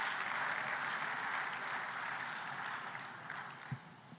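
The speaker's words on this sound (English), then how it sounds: "give a big round of applause to the young people in the room" Soft, distant audience applause rolls through a large conference hall in Tanzania, a steady smattering of clapping that thins out toward the end, with no talk over it.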